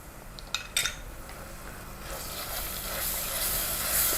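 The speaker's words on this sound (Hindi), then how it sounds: "इसे 1 मिनट भूनेंगे।" Garlic ginger paste hits frying onions: a few metallic clinks of a spoon against the pan, then a rising, steady hissing sizzle that grows louder, close up with no talk.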